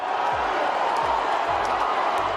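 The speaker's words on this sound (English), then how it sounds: "A Donald Trump supporter pushes a protester to the ground, punches and kicks him repeatedly as the crowd cheers on" A large crowd at a Donald Trump rally cheers and roars in a dense, steady wash of noise, with a few sharp thuds and scattered shouts inside it.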